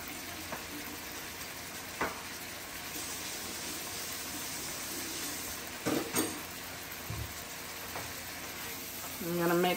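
Fajita pasta being stirred in a pan with a spoonful of tomato paste: a soft, steady sizzle with occasional scraping and clinking of a utensil against the pan, fairly quiet and close.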